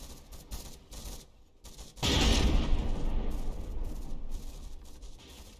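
In the naval combat game From the Depths, cram cannon shells slam into a frigate with a sudden loud rumbling barrage of impacts that rolls on continuously after an earlier stretch of lighter clattering gunfire.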